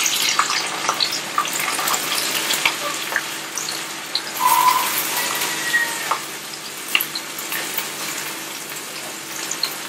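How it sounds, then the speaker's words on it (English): Onion dropped into hot oil for a noodle dish sizzles steadily and close, a broad hiss with small pops and clinks from the pan throughout. "I can see my oil is hot from the onion I've dropped in"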